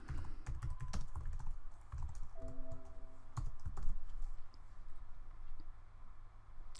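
Typing on a computer keyboard while placing text in an editing program, a run of close, irregular key clicks through the whole stretch, with a few louder taps and a brief tonal beep in the middle.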